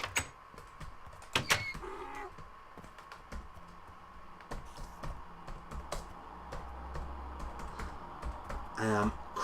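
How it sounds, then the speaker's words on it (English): Someone typing on a computer keyboard while playing on a Minecraft server, with soft, uneven bursts of key clicks and a few sharper taps, heard close and fairly quiet over a low background. "I'm trying to type without pressing T now."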